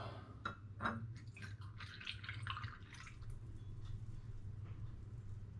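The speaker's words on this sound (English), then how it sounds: "let's get this bottle topped up" Homemade IRN-BRU hard cider made by the turbo cider method, poured to top up a bottle: a soft, close trickle and splash of liquid with a few drips early on, steady for several seconds over a low background hum.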